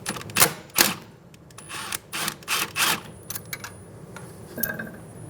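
A ratchet with a 12mm socket removes a brake line union bolt on a 2007-2011 Toyota Camry, giving close, irregular bursts of sharp metallic clicking separated by short pauses.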